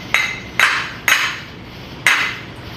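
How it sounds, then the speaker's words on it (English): Four sharp metallic hammer taps on torch-cut one-inch steel plate, knocking off dross, close and loud, evenly spaced then a short pause before the last strike. "We're just going to tap it with a hammer."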